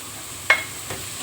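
Blended chili and ginger paste hits a hot pan while cooking okra and potato curry, giving a soft sizzle with a couple of sharp stirring clinks over a low frying hiss.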